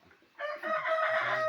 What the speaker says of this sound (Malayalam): അജുവിൻ്റെ കുറച്ച് കോഴികളെ കൊടുത്തു